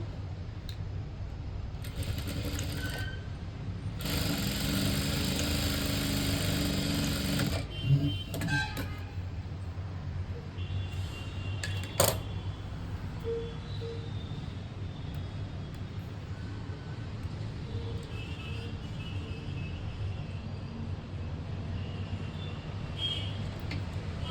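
An electric sewing machine stitches a blouse, running in a few short bursts and one longer steady whirring run, close and moderately loud against a constant low background hum.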